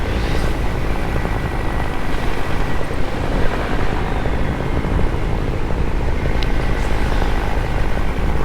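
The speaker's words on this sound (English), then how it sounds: "There's the helicopter." Steady loud drone of a helicopter flying nearby, heard from a small aircraft in flight through mountain turbulence, a continuous engine and rotor roar filling the whole stretch.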